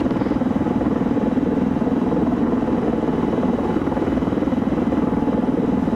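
Helicopter in a military video game with a damaged anti-torque rotor, heard as a loud, continuous rotor thump and engine drone, steady and close with no talk.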